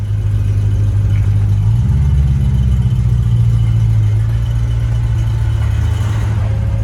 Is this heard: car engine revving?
yes